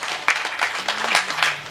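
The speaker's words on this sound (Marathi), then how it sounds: "त्यांच्यासाठी एकदा जोरदार टाळ्या वाजवा" Audience applause at a kirtan devotional gathering, a short burst of scattered clapping that swells and thins over under two seconds, with a faint voice briefly underneath.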